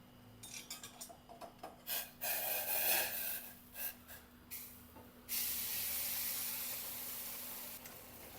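Hot water pours into roasted semolina in a hot pan for upma, with a burst of sputtering and hissing followed by a steady sizzle, close and without talk after a few short rustling bursts.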